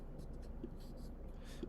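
A pen scratches softly across a journal page in brief, faint strokes, with a low murmur of voice in the background.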